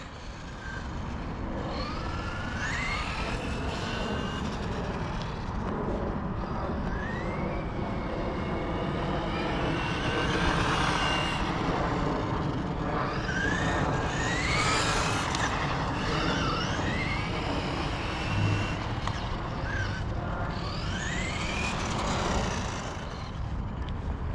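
Traxxas Bandit RC car with a high-speed pinion driving on dry pavement, a continuous loud electric motor whine rising and falling in pitch as it speeds up and slows through passes, with no talk.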